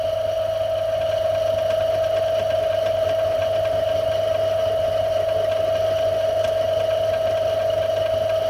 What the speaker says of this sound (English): So these are some of the first cuts made by this lathe.